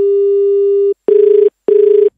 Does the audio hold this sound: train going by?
no